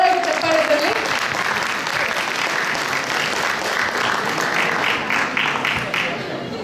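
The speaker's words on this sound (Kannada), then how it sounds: "ಜೋರಾಗಿ ಚಪ್ಪಾಳೆ ಬರಲಿ." Sustained applause from an audience at a Deepawali community prize distribution, greeting winners of a word-puzzle contest; steady dense clapping fills the whole stretch at an even level, with some voices and cheering mixed in.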